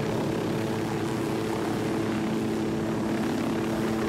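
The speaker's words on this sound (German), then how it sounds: "dass jetzt hier ein Hubschrauber startet" A helicopter lifts off at a rebel base in the video game Ghost Recon Wildlands, giving a steady, loud rotor and engine drone with a droning hum that holds without a break.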